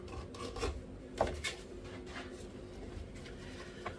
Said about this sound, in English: One of the keys to getting good edges is proper sanding.